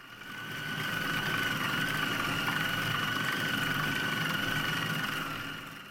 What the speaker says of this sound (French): Cette phase dure 2 minutes, la température est de 0 degré et la vitesse de 5.